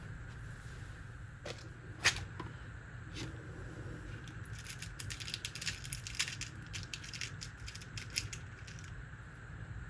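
Rummaging through a box of small parts for screws while assembling a pine guitar: close, quiet metallic clicks, ticks and rattles, scattered then more rapid, with no voices.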